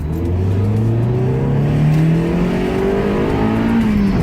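A Mazda Miata with aftermarket shocks accelerates down a street, its engine note climbing steadily through the gears in a loud, continuous, close-up drone with no talk.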